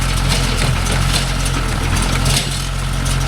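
A Kubota MU4501 tractor runs steadily at close range in a coconut grove, a continuous low engine drone with a smooth, even tone throughout and no voices.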